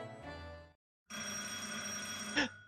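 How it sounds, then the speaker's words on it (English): A telephone rings in The Great Ace Attorney Chronicles video game: a short ring, a brief pause, then a longer sustained electronic ring ending in a sharp accent, loud and alone. "The phone is ringing!"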